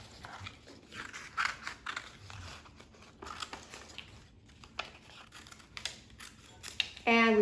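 Scissors snip through layered colored paper in a run of close, crisp cutting strokes at an irregular pace, fairly quiet, ending with a brief louder rustle.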